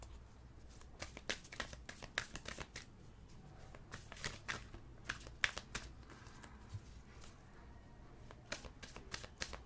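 Tarot cards are shuffled and handled in quick, crisp bursts of papery riffling and snapping, with a steady low background hum throughout and no talking.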